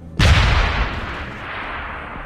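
A frag grenade blast in Deus Ex: Human Revolution, a single loud, close boom that hits hard and then rolls off into a long fading rumble and debris wash, with no talking.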